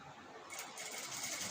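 A sewing machine stitches a star-neck cross-cut blouse, giving a brief, soft, steady whir that swells slightly after a short start, heard close and without talk.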